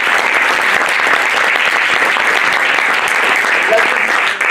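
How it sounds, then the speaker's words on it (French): Audience at a Samaritans of Vernier conference applauding the speakers, a dense, steady wash of many hands clapping that holds loud and even throughout without pause. "La première, c'est applaudir nos orateurs."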